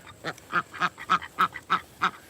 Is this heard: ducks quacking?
yes